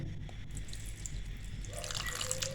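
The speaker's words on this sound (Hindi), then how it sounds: "इसमें विनीगर ऐड करेंगे 2 टेबलस्पून" Vinegar is poured over shredded chicken for bread chicken patties, giving soft drips and a brief liquid trickle near the end, quiet and close.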